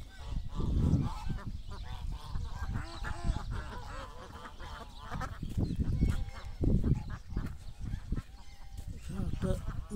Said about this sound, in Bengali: এখানে একটা রাজহাঁস আছে, অনেকদিন ধরে আছে।